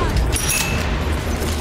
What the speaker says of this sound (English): Kenzie likes a good explosion